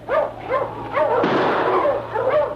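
Sled dogs in an old-time radio drama let out a rapid run of yips and barks, loud and close, with a brief burst of harsh noise midway.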